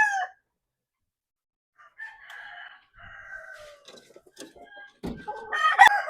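A straight-combed golden rooster kept for breeding crows close by, a loud, drawn-out call near the end, with a few softer clucking sounds and other farm noises before it.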